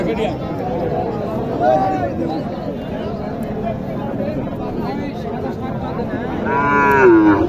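Cattle at a busy cow market in Naogaon, with several loud moos rising over a constant crowd hubbub of voices and chatter, one lowing call clearly close by near the end.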